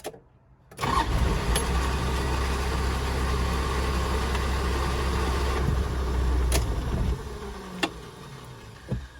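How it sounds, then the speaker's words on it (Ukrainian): Old Toyota Land Cruiser 80 diesel engine catching almost instantly after a brief crank, then settling into a steady, loud, rough idle close by, followed by a few faint clicks as the engine note drops away. "Дивіться як запускається е, старе корито дізельне"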